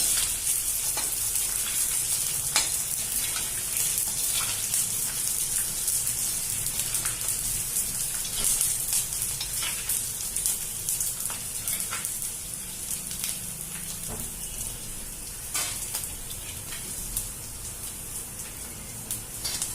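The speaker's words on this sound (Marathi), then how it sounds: "आपण आता डिंक तळून घेऊ थोडा थोडा डिंक टाकून असं तळून घ्यायचा तुपात" Small pieces of edible gum (dink) fry in hot ghee over a medium gas flame, giving a steady, dense sizzle with faint crackles and occasional stirring clicks that runs unbroken for the whole stretch.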